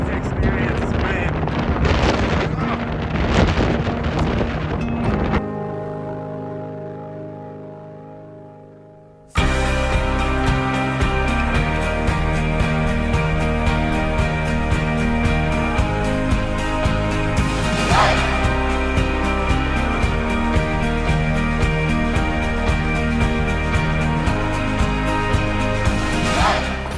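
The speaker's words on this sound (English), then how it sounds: "Easy to experience this wind." Strong, unrelenting wind buffets the microphone on a desert trail near wind turbines, a loud, continuous roar that eases briefly before surging back at full force and holding steady.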